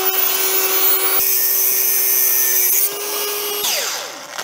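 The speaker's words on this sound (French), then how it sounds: "là c'est découpe des cardans" A power tool cuts through a car driveshaft from a Peugeot 505 being swapped to an OM606 engine, a loud continuous grinding whine with a steady pitched tone that shifts and slows toward the end.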